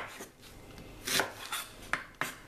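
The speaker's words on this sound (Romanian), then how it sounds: "Ceapa o să o curăț și o să o tai." A few sharp knife chops through an onion on a cutting board, irregularly spaced, close and moderately loud with quiet kitchen background between strikes.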